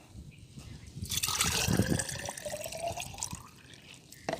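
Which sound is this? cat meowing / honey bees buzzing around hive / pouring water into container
pouring water into container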